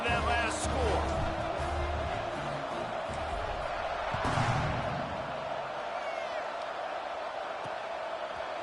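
A stadium crowd buzzes in the NCAA 26 college football video game after a score, a steady dense roar filling the whole stretch with one brief thump near the middle.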